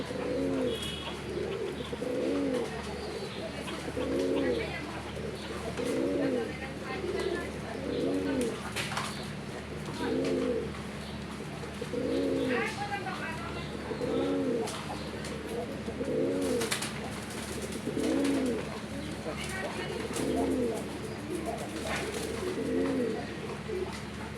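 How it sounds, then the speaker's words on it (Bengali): A black-and-white king pigeon coos deeply and repeatedly, rhythmic low rolling calls in a steady series close by, with a constant hum and occasional faint chirps behind. "এটা হচ্ছে কালো সাদা রাজগোলা কবুতর। দেখেন এর ডাকের সাউন্ডটা কত মোটা।"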